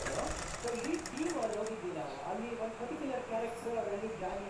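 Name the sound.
sewing machine stitching blouse piping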